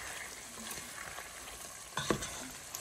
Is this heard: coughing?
no